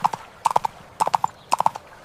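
A donkey's hooves clip-clop along a winding path. There are crisp, close hoof strikes in quick clusters of three or four, repeating at an even walking rhythm with no other sounds between them.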